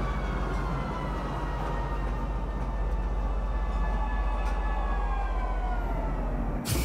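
A metro train arriving at a station in Star Citizen, a steady rumble and rising tonal whine of the approaching cars running continuously, close and loud, ending in a brief sharp burst.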